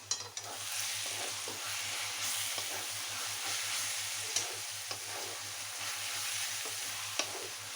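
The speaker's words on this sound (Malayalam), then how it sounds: "സവോള ഏകദേശം ആയിട്ടുണ്ട്. ഒന്ന് ഇളക്കി കൊടുക്കാം." Onions frying in a pan for chicken biryani, stirred steadily with a spoon: a continuous close sizzle with frequent scraping and clinking strokes, no talk.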